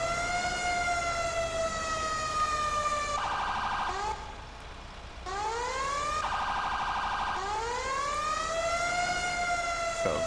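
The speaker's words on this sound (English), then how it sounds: "So I'll let you guys hear the siren." A loud fire truck siren in GTA 5, from a Bulldog Extreme 4x4 brush fire truck, wails close by, its pitch sweeping up and down in repeated long cycles with a brief dip in the middle.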